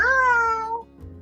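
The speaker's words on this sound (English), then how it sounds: "that was my cat, my orange tabby, just going" An orange tabby cat lets out a single clear, drawn-out meow close by, falling in pitch at the end, with nothing else heard around it.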